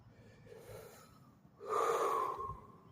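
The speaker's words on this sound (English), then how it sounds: "Take a deep breath" A single deep inhalation drawn in close to the mic, swelling loudly for about a second, preceded by a softer, shorter breath; no talking.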